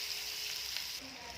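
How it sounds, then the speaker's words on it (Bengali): Chopped garlic and a little onion sauté lightly in a pan, making a short, soft, steady sizzle. "রসুন কুচি, একটু পেঁয়াজ দিয়ে একটু হালকা সতে করে নেব।"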